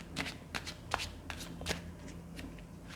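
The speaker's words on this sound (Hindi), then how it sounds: "जब तक मैं कार्ड शफल कर रही हूँ" A deck of tarot cards is shuffled by hand in a quiet room, giving a series of soft, quick riffling flicks and snaps at close range.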